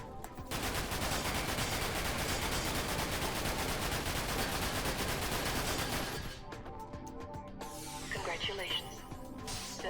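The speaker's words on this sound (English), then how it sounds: "but the turret, you have to be accurate." A turret gun in Dirge of Cerberus: Final Fantasy VII hammers out a rapid, unbroken stream of shots for about six seconds, then cuts off abruptly, leaving quieter game sounds.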